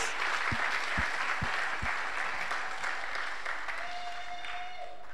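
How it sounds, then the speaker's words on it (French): A church congregation applauds loudly and continuously for several seconds, a dense wash of clapping that thins slightly toward the end. "On peut acclamer très fort?"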